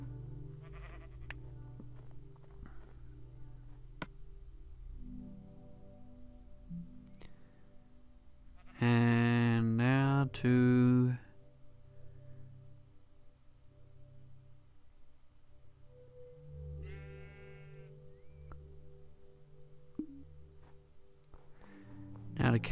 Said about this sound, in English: Now to kill some sheep.